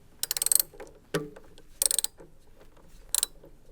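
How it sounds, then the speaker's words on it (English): A 10mm socket ratchet clicks while loosening the centre nut on a Beko washing machine heating element, with several short bursts of rapid ratcheting separated by pauses, close and fairly loud. "Unscrew the centre nut using your 10mm socket set."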